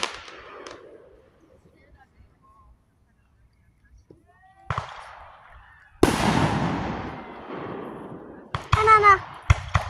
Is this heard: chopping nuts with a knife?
no